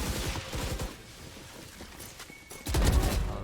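A rapid burst of gunfire crackles at moderate volume in a tactical shooter video game, followed by a louder, heavier impact near the end, with no voices.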